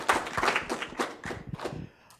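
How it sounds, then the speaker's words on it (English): A small audience gives scattered, uneven hand claps for a panel at a floodplain science talk, moderately close, rising in a few bursts before thinning out and fading to quiet. "Please join me in a round of applause for our panelists today."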